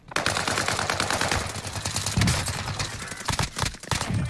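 Sustained automatic gunfire in Call of Duty: Warzone rattles continuously in fast close bursts, with several sharper individual shots standing out toward the end.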